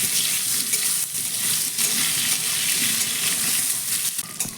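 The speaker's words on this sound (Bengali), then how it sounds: "আমগুলোকে আমি হালকা একটু ভেজে নেব তেলের সঙ্গে" Mango pieces fry lightly in oil, giving a loud, dense, continuous sizzle close up with faint stirring crackles throughout and no talking.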